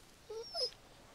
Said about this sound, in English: That's an animal. Is that a pup?